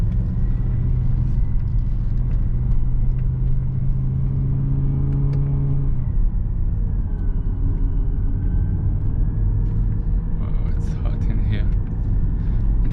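A 2006 BMW M5 E60 with the S85 V10, fitted with new ignition coils and plugs, accelerates in first gear: a loud, steady engine roar with a tonal whine that shifts pitch midway and keeps building, heard from inside the car.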